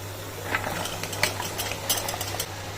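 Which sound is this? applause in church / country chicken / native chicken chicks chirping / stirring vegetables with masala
stirring vegetables with masala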